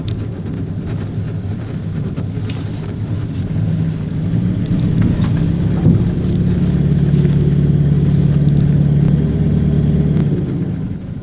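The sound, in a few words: Buick Roadmaster car driving up into the driveway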